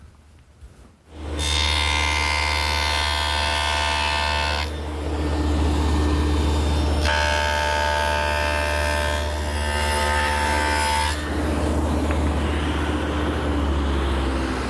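A table saw fitted with a dado head cuts a rabbet along a mesquite bookcase rail. The motor spins up into a loud, steady whine, and two longer passes of rougher, louder cutting noise ride over it.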